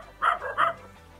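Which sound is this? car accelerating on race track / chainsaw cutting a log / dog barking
dog barking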